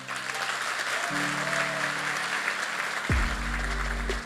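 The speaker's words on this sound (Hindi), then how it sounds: "एक जोरदार तालियां" A seated audience at a motivational sales talk claps in a continuous, even wash, with sustained musical tones entering partway through beneath the applause.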